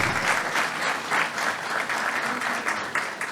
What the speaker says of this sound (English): I believe that deserves a bigger round of applause